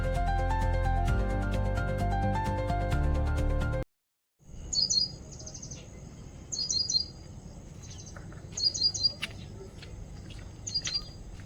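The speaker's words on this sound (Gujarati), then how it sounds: "પક્ષીઓનો કલરવી અવાજ" Birds chirp and tweet in repeated short bursts at a Ganges-side Mahadev temple at dusk, following a stretch of loud music that cuts out abruptly, with steady ambient noise underneath.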